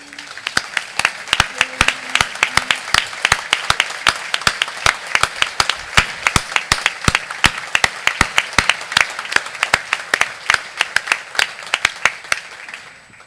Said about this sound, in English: I'd like to ask that all of the veterans would please stand and receive your applause.